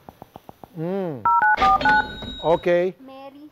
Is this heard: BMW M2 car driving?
no